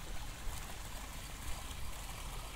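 Fast, turbulent water rushes through the released gates of the Farakka dam, a steady broad roar of flowing current with no break, heard from a moderate distance.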